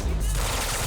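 A short, loud burst of gunfire from the video game Quantum Break, dense and crackling through its whole length.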